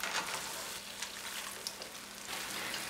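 Namak paare dough pieces fry in hot oil, giving a steady, close, soft sizzle with small crackling pops throughout.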